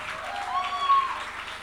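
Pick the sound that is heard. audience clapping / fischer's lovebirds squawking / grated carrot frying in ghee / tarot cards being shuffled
audience clapping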